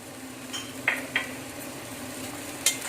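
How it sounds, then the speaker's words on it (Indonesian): A spoon stirs tomato paste sauce with onion and vegetables in a pot, giving a few light scraping clinks against the metal over a steady low kitchen hum. "Nah, kita aduk. Kita aduk rata"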